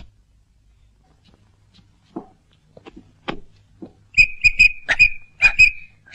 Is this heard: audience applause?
no